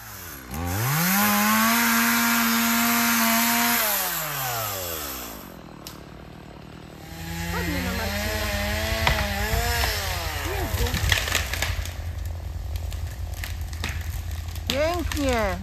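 Stihl chainsaw felling a drying, needle-shedding tree, the engine rising and falling through a loud whining cut, dropping briefly to idle, then revving hard again as the sawing continues close by.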